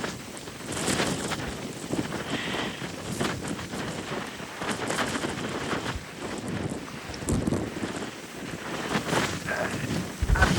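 Gusts of about 60 mph roar across the Northeast Atlantic coast, a constant heavy rumble of wind buffeting the microphone, with surging swells of noise and churning sea beneath.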